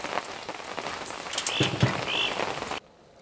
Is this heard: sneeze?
no